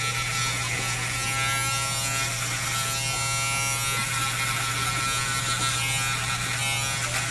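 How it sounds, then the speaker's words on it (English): An Andis Masters electric clipper buzzes steadily and continuously while cutting hair close at the bottom of a drop fade haircut, a loud, unbroken hum with no talk. "I'm just taking out the hairs that's on the bottom to make it more like a razor line bald."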